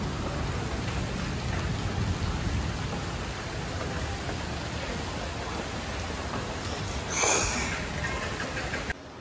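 Steady, dense rain falls continuously, a close and even hiss of drops on surfaces with no talking.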